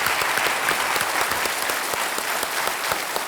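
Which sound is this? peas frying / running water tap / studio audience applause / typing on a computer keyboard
studio audience applause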